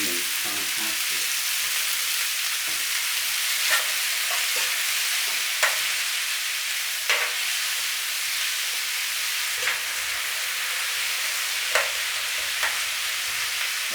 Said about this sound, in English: Sugar optional, but you know, it's a little trick that it's going to caramelise those onions.